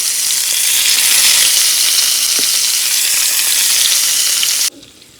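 Brinjal (eggplant) slices fry in hot oil, a loud, continuous close-up sizzling hiss that holds evenly and then cuts off abruptly near the end, leaving faint room noise.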